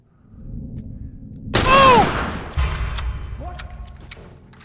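Rifle gunfire in the video game The Last of Us: a loud sharp report with a ringing tail, then a second heavier shot and scattered metallic clicks and taps, with no talking over it.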